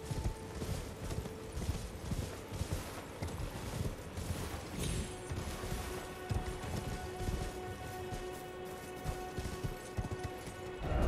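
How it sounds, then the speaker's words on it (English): A horse gallops in the video game Elden Ring, its rapid rhythmic hoofbeats pounding steadily and fairly close throughout, with a brief whinny and game ambience underneath. "I think I'm really not using this horse enough."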